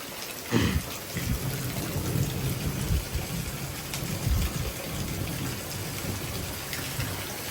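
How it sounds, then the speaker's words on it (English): Heavy rain pours steadily through a severe thunderstorm with strong wind gusts, one loud thump near the start and rumbling low surges throughout, a dense, continuous roar with no voices. "the wind gusts are picking up even more. And that rain's picking up too."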